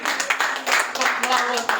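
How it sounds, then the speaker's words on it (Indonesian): A church congregation claps together, quick uneven hand claps blending with voices and cheering, loud and close throughout the short burst. "Beri tepuk tangan buat Tuhan Yesus."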